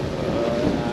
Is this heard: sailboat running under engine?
yes